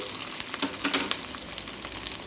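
Cumin seeds sizzling and frying in hot oil while tempering for a chow chow chutney, a steady close crackle with occasional sharper pops and no talking.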